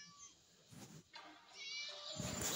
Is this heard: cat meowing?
yes